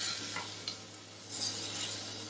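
Beef browning in a pan on an electric hob for boeuf bourguignon, giving a soft steady sizzle with faint stirring scrapes and light utensil clicks, fairly quiet and close with no talking.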